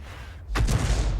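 A tank shell explodes in a video game involving GW E 100 and Hummel artillery: half a second of quiet, then a sudden loud boom that rolls on as a sustained low rumble to the end.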